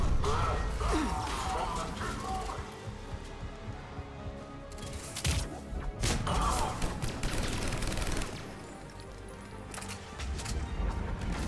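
Rapid gunfire from a fast-firing gun in Mass Effect 3 rattles in dense bursts with crashing impacts and combat noise, pausing briefly near the end, while a voice talks over parts of it.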